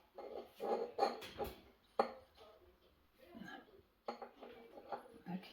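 Small china teacups clink and rattle as they are handled from a china cabinet, bright close taps and knocks in irregular bursts, with quiet low speech between them.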